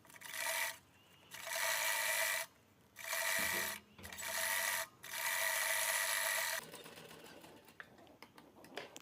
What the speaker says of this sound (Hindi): जिप को इस पीस के ऊपर उल्टा रखेंगे और सिलाई लगा देंगे